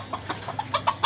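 Sebright chickens on a farm during extreme heat give a quick series of about seven short, soft clucks in an uneven rhythm, heard close by and alone.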